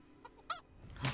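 A chicken in the medieval game Kingdom Come Deliverance gives a few short startled clucks and squawks, ending in one louder honking squawk, close and brief.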